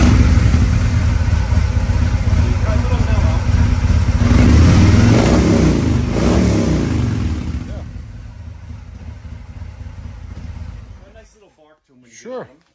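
A Harley-Davidson Street Bob 114 motorcycle revving through its exhaust, loud and close, holding a throaty rumble for several seconds before dropping back toward idle and fading near the end.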